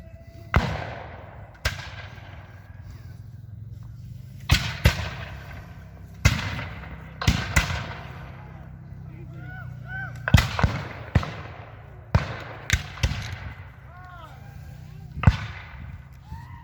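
Black-powder muskets crack in a Dade Battlefield battle reenactment, loud sharp shots near and far at irregular intervals, some in quick pairs, with shouted commands between them.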